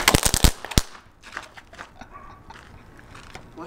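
A homemade firework launcher fires its firework with a quick volley of sharp, loud bangs close by, followed by a short crack and then fainter rustling and distant pops.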